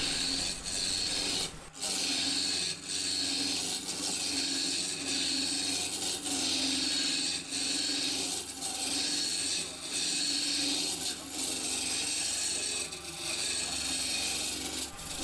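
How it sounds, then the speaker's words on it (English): A wood lathe turns a timber cylinder while a gouge rubs and scrapes against the spinning wood, a steady close rasping with a brief dip near the start and no talking. "To avoid keep stopping the lathe, I'm just checking to see if the cylinder is perfectly round by using the back of the gouge."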